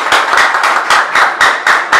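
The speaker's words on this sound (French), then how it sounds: "Veuillez applaudir chaudement" Loud, close rhythmic clapping from an audience at a talent contest, steady regular beats in a warm round of applause.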